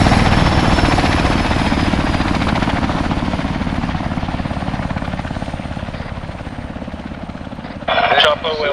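A helicopter in the military video game ARMA 3 drones loudly and close with a steady, fast rotor chop throughout, and a brief radio-like burst near the end.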